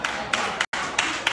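Congregation clapping in a church service, a few sharp, loud claps in rhythm with a brief silent break in the middle.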